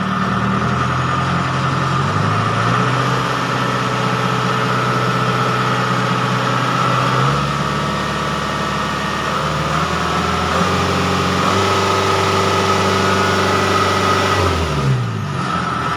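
A Kubota combine harvester engine with a fitted spring revs and idles close by, its loud, steady drone rising and falling in pitch several times as the throttle changes, with no talk over it.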